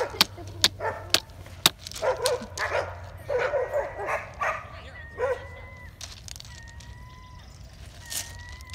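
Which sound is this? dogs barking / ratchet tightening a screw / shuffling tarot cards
dogs barking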